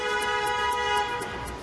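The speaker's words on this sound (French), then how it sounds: "quand on entend un coup de klaxon" Car horn in Paris street traffic, a sustained nasal honk held for over a second and fading slightly at the end, loud and close over a low traffic rumble, with no talking.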